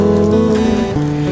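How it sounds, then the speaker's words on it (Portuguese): Heavy rain beats against a window pane in a loud, close, continuous patter with a steady low hum beneath it. "Chuvarada está caindo."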